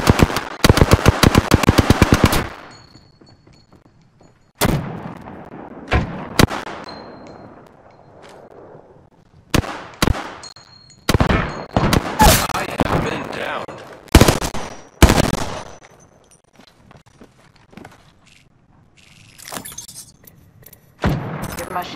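Rapid automatic gunfire in the video game Apex Legends, a loud burst of fast shots followed by scattered single cracks and short volleys with quiet gaps between.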